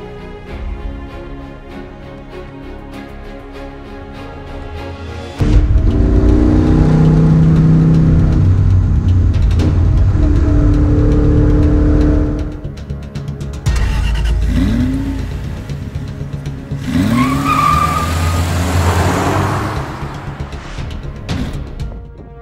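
A brand-new Superformance Corvette Grand Sport idles with a rumbling lope, then its engine revs hard in loud surges and pulls away, rising and falling as it drives past close by.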